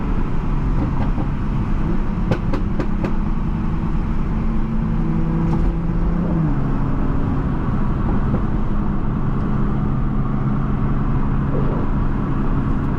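A 2020 Toyota Supra with a maxed-out burble tune rumbles loudly and steadily, a deep engine drone with several sharp crackling pops early on and a brief pitch shift in the middle.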